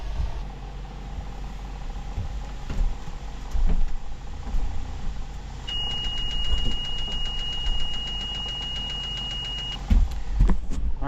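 Electric fuel pump on a sailboat engine, switched on with the key: a steady thin whine running for about four seconds in the middle, with a faint rapid ticking, over a constant low rumble and occasional knocks.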